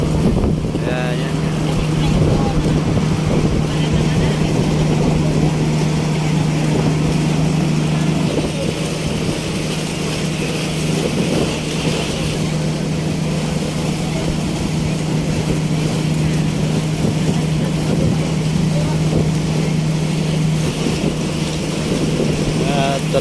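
A motorboat engine on a passenger boat in the Philippines drones steadily and loudly throughout, mixed with rushing wind noise against the microphone.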